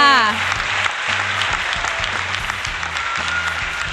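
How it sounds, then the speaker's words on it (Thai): A room full of people applauds with steady, dense clapping that stays at an even level, with a brief voice at the start and a low tone underneath. "เสียงปรบมือ ให้ทุกคนด้วยค่ะ"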